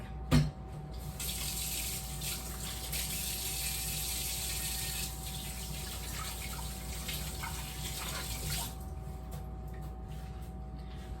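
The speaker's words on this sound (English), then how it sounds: "I'm gonna just rinse my hands really quick." Kitchen tap water runs steadily into a sink while hands are rinsed, a soft continuous splashing hiss after a brief clunk at the start, fairly quiet and close, ending as the flow is shut off.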